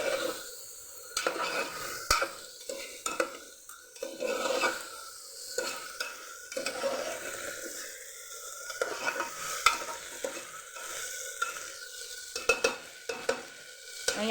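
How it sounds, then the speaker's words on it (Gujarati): Rice sautéed in ghee and oil in a pan, stirred steadily with a utensil: repeated close scraping and clinking over a light sizzle, fairly quiet and continuous. "અને ઘી અને તેલ સાથે આપણે ચોખાને સાતળી લેશું"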